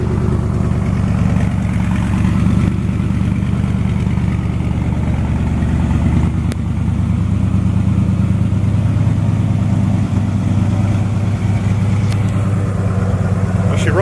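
An Audi's fuel-injected engine idles steadily right after starting, a loud, even low rumble that holds throughout, with someone talking over it.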